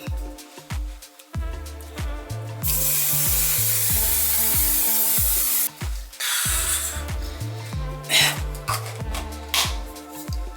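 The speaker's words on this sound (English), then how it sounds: "Okay, one more spray for the road." Makeup setting spray from a pump bottle hisses in a steady continuous burst lasting a few seconds, then a second shorter spray follows, close to the microphone over a faint rhythmic background.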